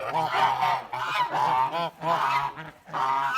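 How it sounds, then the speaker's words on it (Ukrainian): A grey gosling honks repeatedly in a farmyard, its calls coming in close, loud bursts with short pauses between. "Ось цей гарний сіренький гусочок, він буде такий досить роботящий, наскільки я думаю."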